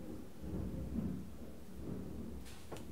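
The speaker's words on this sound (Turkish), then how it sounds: "Şimşek Şimşek çakıyor." Thunder rolls through a thunderstorm, a low sustained rumble with a couple of sharper cracks near the end, fairly loud with no talking over it.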